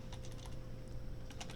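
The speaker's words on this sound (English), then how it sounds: "I'm going to type a backtick, which is above the tab key on the left side of your keyboard" Computer keyboard keys clack in two quick clusters of typing taps, close and crisp, against a low steady background hum.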